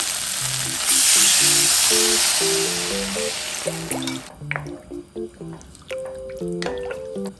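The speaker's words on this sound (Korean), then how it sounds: "이제 물 넣을게요. 이거 쌀뜨물 700ml예요." Rice-washing water is poured into a pan of sizzling doenjang stew ingredients, first as a loud rushing pour over crackling frying, then settling into scattered drips and bubbling sizzle as the pouring stops.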